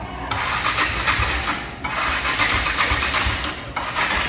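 A motor vehicle engine starting, a loud, dense roar that cuts in abruptly, drops away, restarts and continues steadily near the microphone, no talking.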